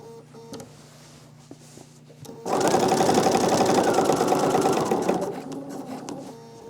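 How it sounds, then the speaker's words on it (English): A sewing machine stitches a row through a machine-quilted patchwork quilt. Faint ticks come first, then a loud, rapid, continuous run of stitching lasts about three seconds before it slows and fades to softer mechanical ticking. "I'm doing a row of stitching roughly halfway between the edges of the two strips"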